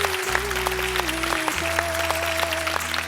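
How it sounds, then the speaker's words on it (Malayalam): A studio audience on a televised singing contest applauds a young singer with a dense, steady wash of clapping. A sustained musical tone and low instrument notes run underneath. "പാടിയതിനും ഒരു ഗംഭീര കയ്യടി കൊടുക്കണം"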